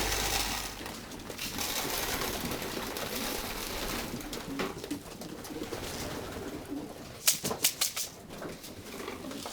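Racing pigeons coo softly in a busy, rustling loft, with fluttering wings and a quick burst of sharp tapping near the end.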